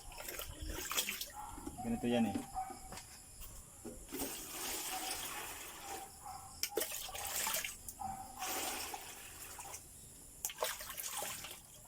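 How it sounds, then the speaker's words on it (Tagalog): Water splashes and trickles into a cut-open empty plastic bottle being readied for plants, in uneven bursts of pouring and gurgling while a person talks in between. "Ang purpose nito ay lagyan ko siya ng tubig."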